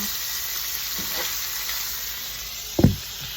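Hamburger meat frying in a pan, a steady close sizzle with a sharp knock of a utensil against the pan near the end.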